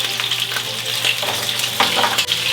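Pearl onions and carrots fry in a pan over high heat, a loud steady sizzle with brief stirring and tossing sounds, no voices.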